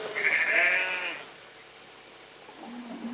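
A single sheep on the open Argentine Pampas gives one clear, wavering bleat, fairly close, followed by a quiet pause and a faint low sound at the end.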